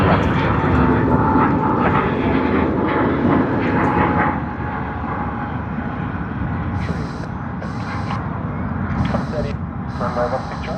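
A Jetstar A321 airliner roars steadily through its takeoff from runway 16 right at Sydney Airport, a loud continuous engine rumble that holds throughout while radio voices talk over it.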